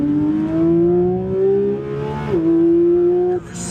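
Porsche GT3 engine revving hard on a track, a loud, steady rising howl that dips briefly near the middle and again at the end without a gear change, close and continuous.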